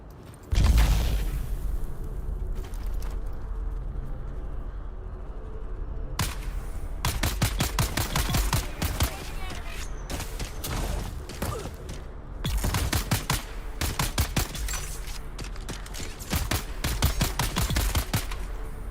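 Rapid gunfire from the Dune: Awakening survival game on Arrakis, with sharp close shots in quick bursts after an opening thud, then longer sustained volleys separated by short pauses.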